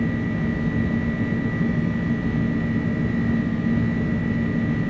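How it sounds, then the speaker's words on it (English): Airbus A300 engines spooling at takeoff power in the MSFS 2024 flight simulator, a loud, steady roar with a sustained whine running evenly throughout, no voices. "Takeoff power is set."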